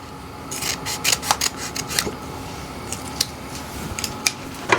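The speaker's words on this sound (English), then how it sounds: "I just go ahead and cut the pouch open so that it is ready when I need it" Scissors snip through a pectin pouch in a home kitchen while jalapeño jelly is being made. A quick series of crisp, close cuts comes in irregular bursts over a soft steady background hum.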